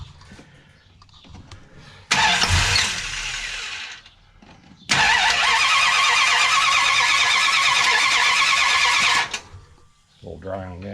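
An engine with a Holley carburetor cranks briefly and catches, then cranks again and starts, running loud and steady for several seconds before cutting out; a voice speaks softly near the end.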